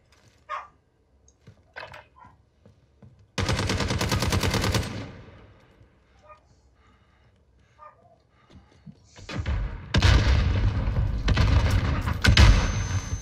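Gunfire in Call of Duty: Modern Warfare comes as two loud sustained bursts of automatic fire, one early and a longer one near the end, separated by quieter stretches with scattered faint shots.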